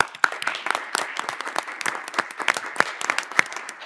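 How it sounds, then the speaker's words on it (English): A board of education meeting audience claps in a sparse, uneven burst, individual hand claps standing out sharply in the room at moderate volume, with no talk over them. "Can I get a round of applause?"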